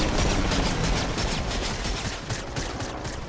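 Rapid bursts of gunfire in the Fortnite battle royale game, dense and continuous over the whole stretch, loud and close with a slightly fading tail.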